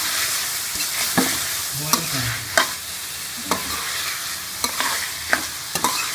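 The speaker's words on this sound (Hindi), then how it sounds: "अब इसके अंदर ये मैं आलू भी डाल दूँगी और इसको अच्छी तरह से भून लूँगी।" Potatoes stirred and roasted in masala while cooking a stuffed capsicum filling, steady frying sizzle with repeated sharp spoon scrapes and clicks against the pan, close and continuous.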